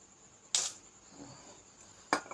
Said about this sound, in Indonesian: kita semprotkan cuman hanya satu semprotan aja